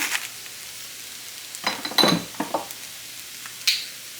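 Bacon seasoned with salt and pepper cooks in a pan, with a faint sizzle under a few scattered clinks and scrapes of a utensil against the pan, close by with no talking.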